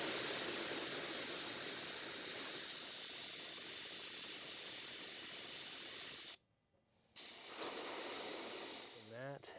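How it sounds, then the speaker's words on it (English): Pressurized air escapes from an air compressor tank as a loud, steady hiss that runs for several seconds, cuts out briefly, then resumes before tapering off. "It's going to let out the air there."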